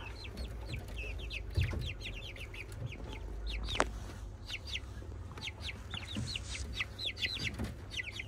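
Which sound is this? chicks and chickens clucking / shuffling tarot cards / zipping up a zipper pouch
chicks and chickens clucking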